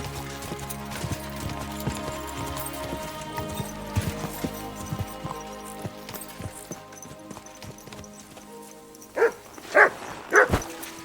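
A dog in Kingdom Come: Deliverance II gives three sharp barks near the end, after steady game music and horse hoof clip-clop.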